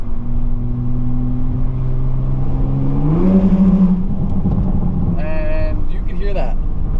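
A Toyota Supra with an aftermarket exhaust, its engine droning steadily and then rising as it accelerates, with popping burbles on the overrun. The car passes over a small bridge, and a person talks inside the cabin.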